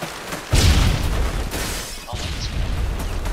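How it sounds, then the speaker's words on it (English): A stun grenade detonates in Modern Warfare 2 online multiplayer: a sudden loud blast, a rumbling tail, then a second, lighter burst about two seconds later. "Throwing stunner."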